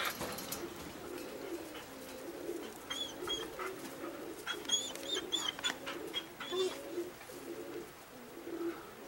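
Roller pigeons coo steadily outdoors on a calm, clear spring day after being kept in for days of bad weather, with faint chirps and a distant dog in the background.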